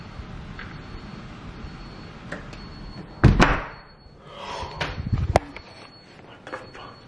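Knocking inside a house with no one at the door: sharp thumps and a louder knock burst in the middle, then further thuds, over a quiet, hissy indoor background.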